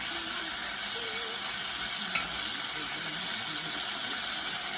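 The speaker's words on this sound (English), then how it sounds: "we're going to leave that oil sizzling there with the nice meat juices in it" Steady, hissing sizzle of hot oil with beef juices in a pan, continuous and close, with faint kitchen movement and a single small tap midway.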